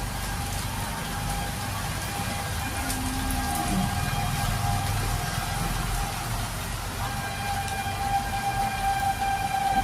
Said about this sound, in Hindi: इतनी मोटी मोटी बूंदे गिर रहे हैं, इतनी तगड़ी वाली बारिश हो रही है